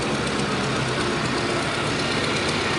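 A Chrysler straight-8 engine powers a 1945 Hobart 400 welder, running with a loud, steady, dense rumble and an even mechanical churn throughout, close by with no talking.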